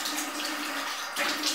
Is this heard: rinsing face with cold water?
yes